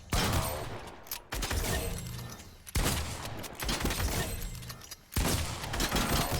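Gunfire in a first-person shooter aim training routine comes in sharp, loud bursts, three clusters of rapid shots separated by brief near-silent gaps.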